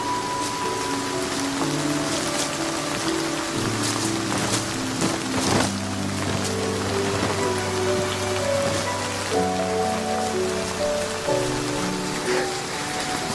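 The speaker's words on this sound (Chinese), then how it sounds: "下雨了。" Steady rain patters on a surface throughout, with scattered drips, under a sustained low musical background of held tones.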